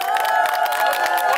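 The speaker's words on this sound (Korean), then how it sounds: "큰 박수 부탁드립니다." A crowd at a trot music stage show cheers and claps in a brief, loud burst of shouting voices and applause.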